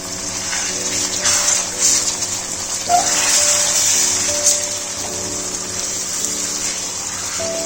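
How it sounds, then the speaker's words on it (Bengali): Water pours steadily from a cup into a pot of well-cooked spice paste for a raw jackfruit and prawn curry, a continuous gushing splash lasting several seconds, close and fairly loud with no talk. "এখন আমি এখানে 1 কাপের মতন জল অ্যাড করে দিলাম"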